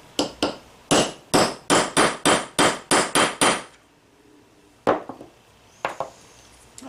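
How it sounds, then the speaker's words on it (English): A hammer strikes a snap setter to fix the last snap on a leather karambit knife sheath: about a dozen sharp, evenly paced blows close by, then a pause and a few scattered taps. "so I'm installing this final snap"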